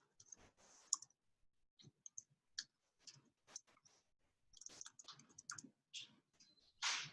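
Typing on a computer keyboard during a coding session, with bursts of sharp, close plastic key clicks in uneven runs separated by brief pauses, heard alone without talk.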